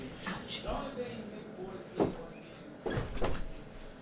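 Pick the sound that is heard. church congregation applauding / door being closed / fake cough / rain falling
door being closed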